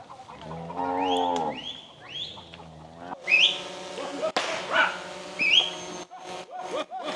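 Cattle moo loudly nearby in long, drawn-out calls, several in succession, with a few faint bird chirps between them.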